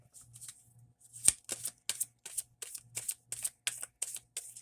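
Tarot cards riffled and shuffled in a steady run of about ten crisp, close bursts, each a quick papery flutter with short gaps between, fairly quiet overall.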